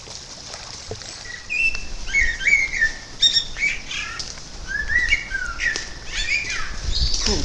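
Birds chirp and call beside a canal on a narrowboat trip, a string of bright tweets and whistled phrases at moderate distance over a soft outdoor rumble and wing flutters.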